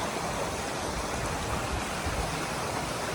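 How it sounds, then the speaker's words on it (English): Kilby Creek, a small creek along the Appalachian Trail, flows in a steady, dense rush of water that fills the whole clip, close and continuous with no voices. "Pretty little creek."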